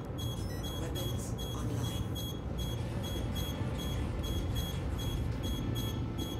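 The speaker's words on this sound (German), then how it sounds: "Jetzt krieg ich hier noch wilde Piepsgeräusche." Rapid electronic warning beeps repeat steadily over a dense low hum inside a spaceship cockpit in the space game Star Citizen, loud and continuous throughout.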